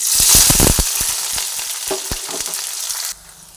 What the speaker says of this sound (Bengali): পেঁয়াজ তেলের মধ্যে দিয়ে ভেজে নিচ্ছি